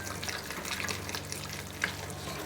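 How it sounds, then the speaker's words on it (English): Wonton filling mixed vigorously with egg and salt, a wet, sticky squelching and stirring at close range, steady and moderately quiet, with one sharper clack near the end. "Season with a bit more salt and mix vigorously again to stir all the ingredients together"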